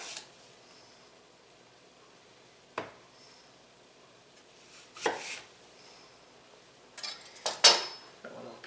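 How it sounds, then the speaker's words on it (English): A knife cuts quartered Granny Smith apples in half on a board, giving a few sparse, faint, close cuts and taps separated by quiet stretches. "I'm going to take those ones I quartered, get them cut in half"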